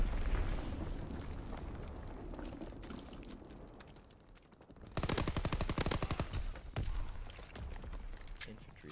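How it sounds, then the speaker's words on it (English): Bombs and gunfire boom in a Call of Duty WWII multiplayer match, dense rattling bursts and explosions that thin out midway and then return as a heavy, rapid volley, with someone talking over the battle. "There's bombs coming in"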